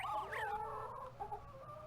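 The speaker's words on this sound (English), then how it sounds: "You can hear the chickens clucking in here." Chickens in a video game cluck and squawk briefly, a couple of close, rising calls followed by softer clucks, with no talk.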